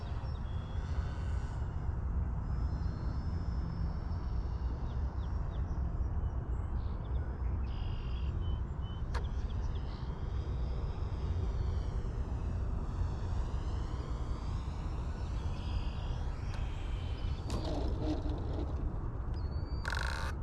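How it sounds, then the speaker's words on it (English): A Right Flyer 40T model airplane engine drones steadily as the plane circles in to land, a continuous buzzing whine that holds loud throughout with faint outdoor background and a brief bird chirp. "This next go around, we're coming in for a landing."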